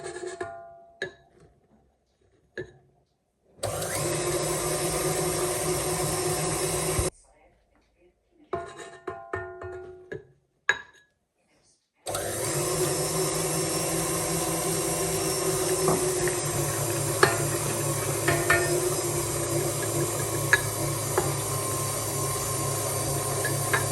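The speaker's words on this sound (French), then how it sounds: "Incorporer en 3 fois le sucre glace en fouettant le tout." Electric whisk beating cream as icing sugar is added in three parts, a steady buzzing whir in several bursts, first short and broken by pauses, then one long continuous run.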